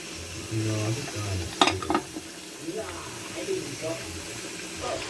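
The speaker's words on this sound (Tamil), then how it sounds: "வெங்காயம் பாருங்கள், நல்லா பொரிஞ்சிருச்சு" Onions fry in a pan with a soft, quiet sizzle, broken by a few sharp clinks and stirring sounds, while a person talks over it.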